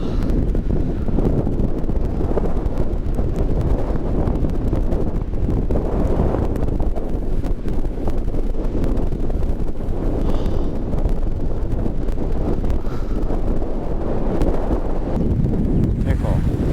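Strong wind roars across an open high-rise rooftop on Australia's Gold Coast, a loud, steady buffeting rush that batters the microphone throughout with no letup.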